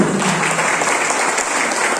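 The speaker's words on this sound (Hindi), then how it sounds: "उनके लिए भी तो ताली हो जाए।" Steady applause from a large crowd at a national tour event at Jim Corbett National Park, India, fills the whole moment, dense and continuous without pause.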